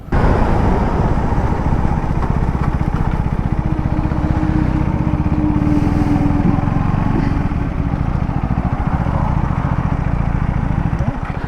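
KTM Duke 390 and Duke 390R motorcycles run a drag race, their engines giving a loud, steady, close roar that holds throughout with no speech.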